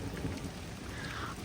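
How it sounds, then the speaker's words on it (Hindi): Heavy rain pours down in a steady, dense hiss with a low rumbling undertone, close and constant, with no speech. "बहुत तेज हो गई है बारिश भाई,"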